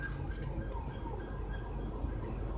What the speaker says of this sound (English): Every time you hear that siren